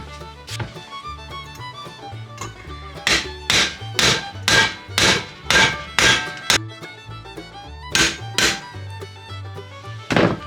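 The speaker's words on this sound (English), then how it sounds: "I'll get a hammer." A hammer strikes a bent metal part to straighten it: about a dozen sharp, ringing blows in an uneven rhythm, some grouped in quick runs, close and loud with a low rumble between strikes.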